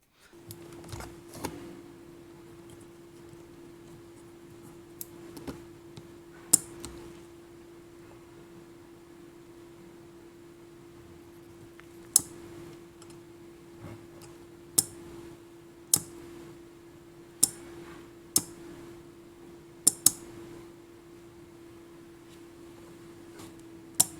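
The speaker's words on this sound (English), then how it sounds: "Check if there's a clicking sound when the relay is turned on." Relay module driven by a Raspberry Pi Pico clicking on and off: a series of sharp, isolated clicks spaced a second or two apart over a steady electrical hum, close and fairly quiet, with no talking.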